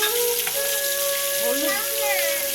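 Spice paste of garlic, ginger and tomato with turmeric and salt frying in a pan while cooking rui fish, giving a steady, dense sizzle that runs unbroken throughout at close range.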